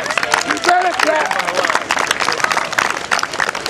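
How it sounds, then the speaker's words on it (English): An audience applauds the coaching staff at a 2009 event in Philadelphia, a dense wash of many hands clapping with crowd noise and scattered voices layered over it, loud and steady throughout. "Let's have a great hand for our coaching staff. You better clap."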